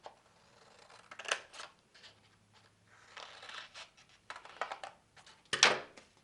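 Scissors snip through paper leaves for a watercolor flower bouquet craft, a scattered series of crisp close cuts and rustles ending in one louder, sharper snip, with no talking.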